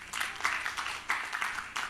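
A church congregation at a Korean prayer-house revival service claps together in loose, rhythmic bursts, steady and fairly close, with no one speaking over it.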